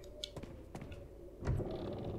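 A door in the Resident Evil 4 beta opens with the action key: faint mechanical clicks and creaks, then a heavier thud and grinding movement midway, quiet against a low background hum.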